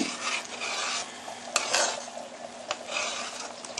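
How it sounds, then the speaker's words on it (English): A pot of boiling chocolate candy being stirred, giving a steady scraping, bubbling swish with a few sharper clinks of the utensil against the pan, close and continuous throughout. "back to our boiling chocolate"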